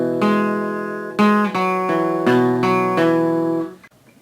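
Electric guitar picking an arpeggiated chord pattern from a song, clear single notes ringing into each other in a slow steady sequence, played alone and close, fading out at the end.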